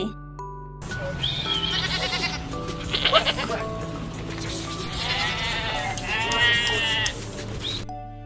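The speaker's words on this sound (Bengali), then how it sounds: "ছয় ছাগলছানা লাফিয়ে চলে" Young goats bleat repeatedly in wavering, nasal cries, several calls overlapping at close range over a steady low hum.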